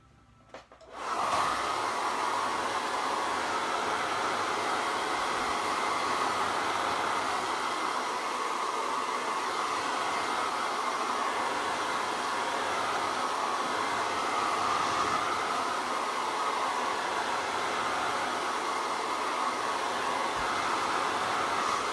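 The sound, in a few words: hair dryer blowing to dry paint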